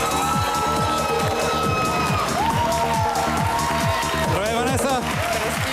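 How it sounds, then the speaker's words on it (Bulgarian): Studio audience applause and cheering greets the Tsvetanovi family as they come onstage on a Bulgarian Big Brother show, a loud steady crowd roar laced with whoops and music. "Аплодисменти за тях!"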